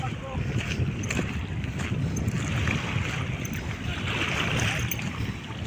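Continuous wash of Manila Bay water against the shore of Dolomite Beach on the Baywalk, Manila, with wind noise, steady and fairly close, without distinct individual wave crashes.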